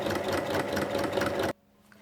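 Sewing machine topstitching along a zipper on fabric for a cushion cover, a fast steady mechanical whirr with rapid stitching pulses for about a second and a half, then stopping abruptly into near silence.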